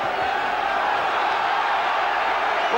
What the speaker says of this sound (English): The crowd cheering the American on